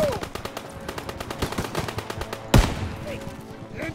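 Rapid machine gun fire rattles on in a Call of Duty WWII battle, with one louder blast near the middle and a dense wash of game combat around it.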